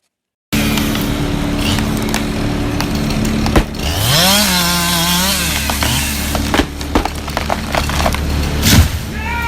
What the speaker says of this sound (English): So not only is this a mini chainsaw